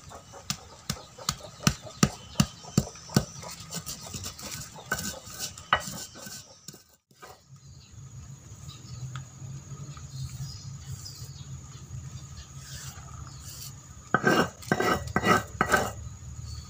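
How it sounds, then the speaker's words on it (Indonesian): Sulfur rock from around a hot spring is crushed by hand, giving a run of sharp, close clacking and grinding strikes, then a quieter rustling stretch before another burst of knocks near the end, with no talking. "selanjutnya kita hancurkan juga ini batu yang berasal dari bebatuan yang ada di sekitar air panas ya"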